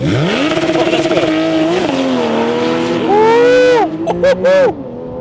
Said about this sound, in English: All right, this launch control sounds epic, by the way.